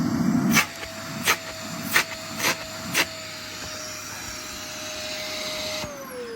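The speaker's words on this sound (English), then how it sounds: "it's lost a bit of suction, I can tell by the sound of the motor" A vacuum cleaner motor runs steadily with a faint whine, overfilled and losing suction with a possible belt or turbine fault, while several short loud bursts of hissing air punctuate the first half before the motor winds down near the end.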